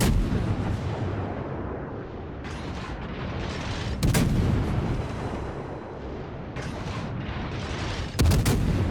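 Heavy naval gun salvos from a Worcester cruiser in a warship video game, firing at an enemy ship: two loud, sharp booms over a constant deep battle rumble, with no talk.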